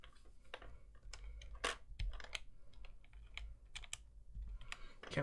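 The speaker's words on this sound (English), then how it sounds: "This keyboard." Clicky keystrokes on a Percent Skog Lite mechanical keyboard come in irregular bursts of close, crisp taps over a low background hum, with no voices.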